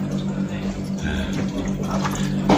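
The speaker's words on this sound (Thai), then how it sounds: "น้ำไหลแล้วพี่ ไหลตอนนี้เพิ่งไหล" Municipal tap water runs steadily from a faucet after the supply has been restored, a continuous close splashing flow with voices murmuring nearby.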